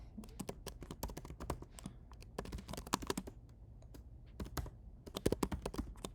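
Rapid typing on a computer keyboard, dense irregular bursts of clicky keystrokes with brief pauses, close and clear with no talking.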